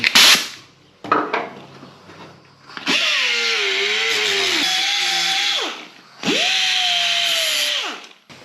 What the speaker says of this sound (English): I'm just gonna grind that solder off of there so I can make that connection.